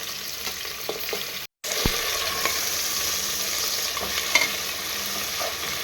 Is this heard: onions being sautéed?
yes